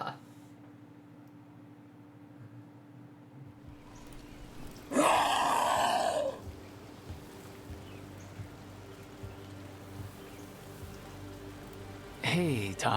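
Rain in the video game Dragon Age: The Veilguard, falling as a steady soft hiss during a climb, with a brief louder rushing gust midway and another near the end.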